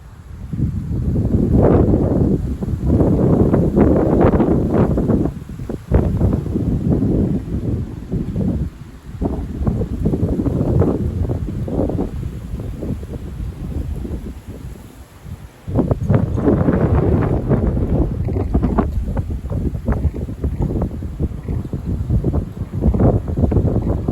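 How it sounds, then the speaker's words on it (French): Steady wind buffeting the microphone in gusts, with rustling and a brief lull midway before picking up strongly again. "il y a quand même un petit peu de vent là"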